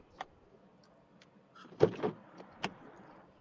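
A car door opens and shuts as someone steps out of the car, with soft clicks and a couple of sharper latch thuds, faint and close, no talking.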